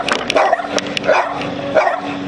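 Several dogs bark and yip excitedly at a visiting guest in a metal-fabrication shop, with repeated loud close barks in quick bursts and faint whimpering between them.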